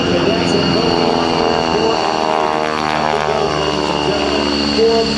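A 220-horsepower propeller airplane flying aerobatics at an airshow, its engine droning loudly and steadily throughout with a slowly shifting pitch as it maneuvers, a voice speaking over it.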